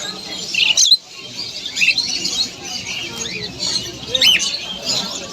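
Cockatiels at a crowded bird market give several sharp squawks and chirps, with a cluster near the start and more calls near the end, over a steady din of other birds and background noise.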